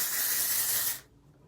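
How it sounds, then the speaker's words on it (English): Texture spray hisses onto hair in one close, steady burst lasting about a second before cutting off abruptly. "little texture spray."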